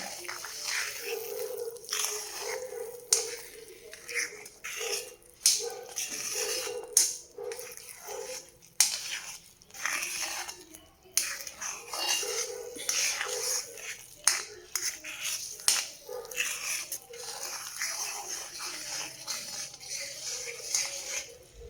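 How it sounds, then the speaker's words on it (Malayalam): Thick rava kesari stirred in a pan gives repeated soft squelching and scraping strokes in an uneven rhythm, close and moderately loud. "നന്നായിട്ടൊന്ന് ഇളക്കി യോജിപ്പിക്കാം."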